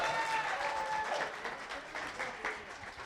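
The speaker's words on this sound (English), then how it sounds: "Also, clap real quick." An audience at a poetry slam claps in a dense, sustained burst of applause that stays loud throughout and tapers slightly near the end, with faint voices mixed in.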